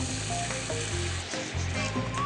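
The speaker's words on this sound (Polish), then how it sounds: "Spójrzcie, już gotuje nam się miód. Na ten gotujący miód wędruje zwykły ocet balsamiczny." Honey bubbling and sizzling in a pan with balsamic vinegar added, a steady close crackle of frying with a few faint clinks, no voices.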